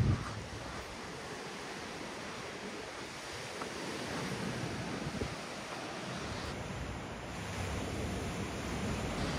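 Sea waves surging under a bridge among pipes on the Adler waterfront in Sochi, a steady broadband wash of surf with wind, continuous and moderately loud with no voices.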